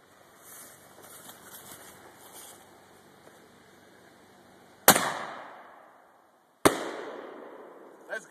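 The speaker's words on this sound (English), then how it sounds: "How you pull over the side of the fucking road and just light fireworks?" Two sharp, loud daytime firework blasts from the roadside a couple of seconds apart, each trailing off in a crackling echo, after a stretch of low background noise.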